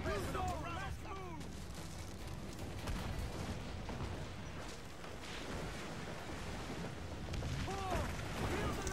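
Ship cannons in Assassin's Creed IV Black Flag fire in a dense, continuous barrage of booming blasts and crackling gunfire, with shouted crew voices and cries mixed through the naval battle.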